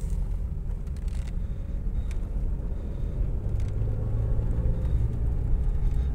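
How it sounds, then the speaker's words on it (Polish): A Rover 75 car on the move, heard as a steady, smooth low rumble of engine and road noise from inside the cabin, even in level throughout, with no one speaking. "Auto bardzo aksamitnie,"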